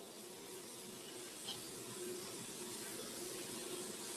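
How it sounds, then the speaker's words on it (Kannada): Tomatoes and vegetables frying in oil in a pan while cooking vegetable pulao give a steady, soft broadband hiss and crackle throughout, fairly quiet and unbroken, with no talking. "ಟೊಮೊಟೊನ ಹಾಕ್ಕೊಂಡು ಚೆನ್ನಾಗಿ ಫ್ರೈ ಮಾಡ್ಕೊಳ್ಳಿ."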